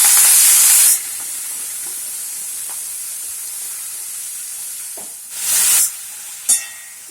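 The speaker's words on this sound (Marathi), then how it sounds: "आता ह्याच्यामध्ये आपण ही कट केलेली भाजी टाकून घ्यायची आहे." Chopped spinach is dropped into a hot pan with garlic, giving a loud burst of sizzling that settles into a steady hiss, broken by a few short stirring scrapes and sizzle bursts near the end.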